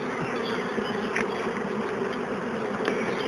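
Honey bees fly around the hives at an apiary during a dandelion honey harvest, a dense, steady buzzing drone with no voices, moderately loud and continuous throughout.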